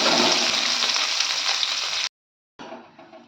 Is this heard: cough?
no